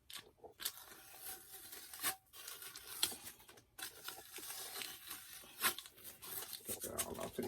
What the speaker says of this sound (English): Just kind of ripping the tape back.